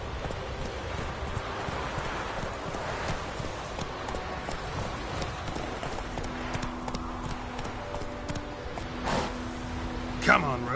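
Roach the horse in The Witcher 3 galloping with steady, rhythmic hoof clip-clops at moderate volume, set against a low ambient game backdrop, with a sharper accent near the end.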